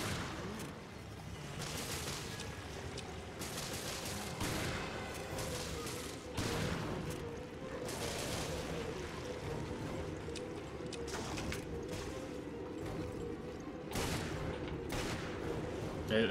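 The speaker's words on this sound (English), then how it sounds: "It's a pretty strong gun" Gunfire from a powerful weapon in the video game Resident Evil Revelations, a series of sharp shots spaced irregularly over a steady game background, loud and close.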